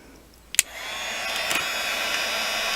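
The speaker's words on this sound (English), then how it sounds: "You want to always keep your heat gun moving so that you don't burn your piece" Heat gun melting embossing powder on a doily and dress form embellishment: a couple of clicks, then a steady loud whooshing blower hiss that rises and holds, close by with no talk.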